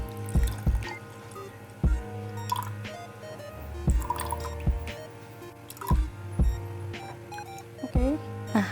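Liquid poured and dripping while an orange juice drink is made, a series of small splashes and drips in uneven rhythm, close, over faint background music with no speech.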